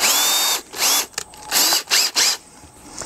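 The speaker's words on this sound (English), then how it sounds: "So let's just quickly drill a couple holes" A power drill with a brad-point bit bores holes through the plastic wall of an EarthBox planter, in several loud whining bursts of varying length separated by short pauses.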